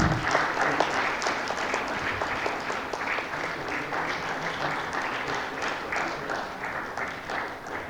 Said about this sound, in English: May I have a round of applause,